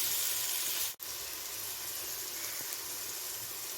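Potatoes sautéing in a pan while cooking mint rice give a steady, close sizzling hiss that runs unbroken except for one brief dropout near the start.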